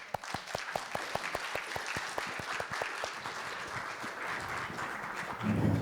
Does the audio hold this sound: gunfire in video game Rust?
no